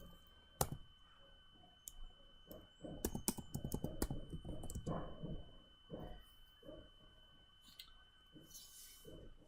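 Keys clatter in quick irregular bursts as someone types at a computer keyboard into a MySQL command line client, close and fairly quiet, with brief pauses between runs of keystrokes.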